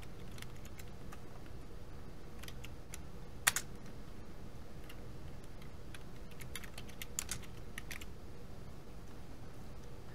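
Soft, quick keystrokes tap on a computer keyboard in irregular clusters, with a few sharper clicks, heard faintly over a quiet room hum.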